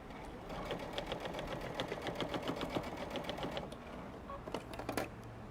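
A sewing machine stitches a quilt made with pre-printed batting, giving fast, even rhythmic needle clatter that runs steadily for several seconds, slows briefly, then resumes with a few sharper clicks.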